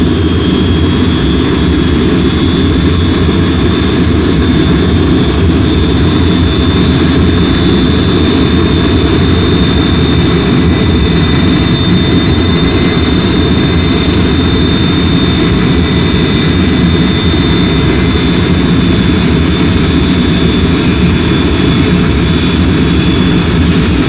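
Jet engines of bombers taxiing out, a loud, steady, continuous roar with a high whine held over a deep rumble and no pause throughout.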